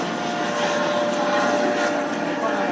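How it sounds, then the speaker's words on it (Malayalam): An air ambulance helicopter carrying a donor heart comes down onto a helipad in Kochi, its steady, loud rotor and engine roar filling the whole stretch without pause. "ഹയാത്ത് ഹെലിപാഡിൽ ഹെലികോപ്റ്റർ ഇറങ്ങുകയാണ്"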